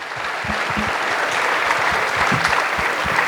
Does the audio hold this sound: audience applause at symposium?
yes